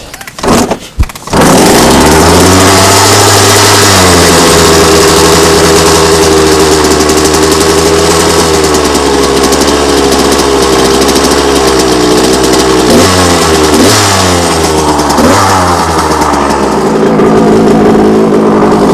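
A loud, steady Suzuki RM125 dirt bike engine idles continuously with a low, throbbing drone, with brief dips in pitch near the end.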